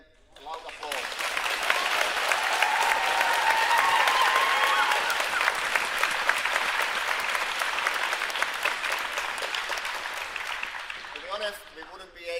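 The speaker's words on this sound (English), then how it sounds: "Let's give them a loud applause." A large crowd applauds steadily for several seconds, the clapping swelling and then tapering off, with a few cheers mixed in.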